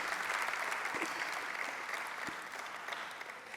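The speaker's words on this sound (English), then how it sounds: "Give them a huge round of applause." A large audience at a university family event applauds panelists with sustained, even clapping that slowly fades over a few seconds, fairly distant and with no talk over it.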